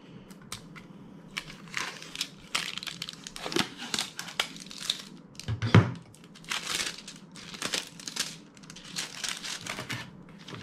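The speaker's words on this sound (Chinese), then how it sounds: "从哪撕开，把这个膜给撕了。" Protective plastic film peeled off a new BenQ Screen Bar monitor lamp during unboxing, giving close crinkling and tearing crackles in irregular bursts.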